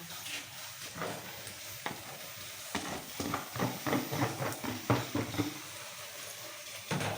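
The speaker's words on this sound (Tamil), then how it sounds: "அடுப்பை சிம்மில் வச்சுட்டு அப்படியே வறுத்துக்கோங்க" Masala and grated coconut for a soya chunk curry fry over a low flame, giving a soft continuous sizzle broken by rhythmic scrapes and clinks of a spatula stirring the pan.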